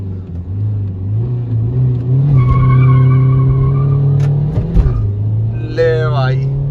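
A diesel Ertiga 1.5 and Swift Dzire 1.2 drag race, with a steady loud engine drone that rises in pitch under acceleration, a brief tire scrub near the end, and a short squealing sound at the finish.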